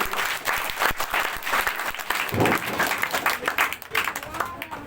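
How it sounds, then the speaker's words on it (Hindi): An audience of students and teachers at a school student award ceremony in Madhubani claps loudly and continuously for a speaker, with some voices faintly beneath the applause. "जोरदार ताली बजाइए उनके लिए"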